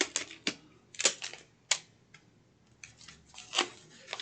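A Dollar Tree cardboard box being cut, a series of sharp close crunching snips and clicks in irregular bursts separated by brief quiet gaps.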